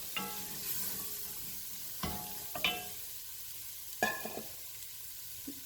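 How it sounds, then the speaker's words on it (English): Fresh corn sautés in a hot pan with a steady, soft sizzle, broken by a few sharp scrapes and clacks of a spoon stirring the kernels, close by and with no talking. "this is fresh corn, so I want to give it a head start"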